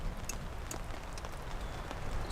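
Heavy rain patters steadily on a camping tent during a storm, a dense, even hiss of drops with scattered sharper taps, moderately faint and continuous with no voices.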